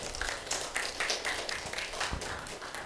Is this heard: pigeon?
no